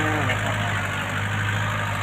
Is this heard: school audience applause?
no